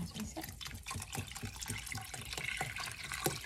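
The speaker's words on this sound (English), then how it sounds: "we're also going to add in some water" Water pours and splashes into a soup pot of split pea soup, a fairly quiet, continuous trickling and sloshing with small irregular bursts throughout.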